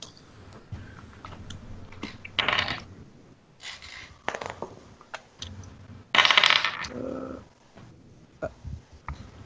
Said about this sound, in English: You can either roll it in game or you can roll a dice.